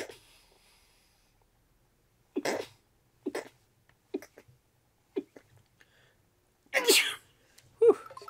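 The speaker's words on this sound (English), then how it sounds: "Oh, I'm gonna sneeze." A single sharp sneeze bursts out near the end, preceded by a few short breathy intakes and small mouth sounds against near silence.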